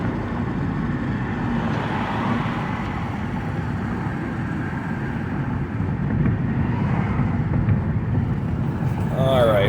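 Road noise roars steadily through an open window of a 2009 Mazda 5 while driving, a loud, continuous low rumble with wind buffeting and no voices.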